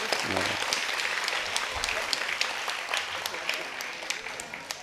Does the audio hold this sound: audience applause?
yes